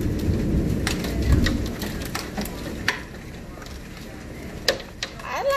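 Heavy rain and hail pour down during a storm in Norman, Oklahoma, a dense steady hiss with sharp scattered impacts of hailstones and a low rumble, recorded close by.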